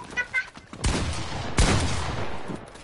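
Gunfire in a shooting video game, two sharp bursts of shots with a noisy rolling tail, fairly loud and close, preceded by a couple of brief clucking blips.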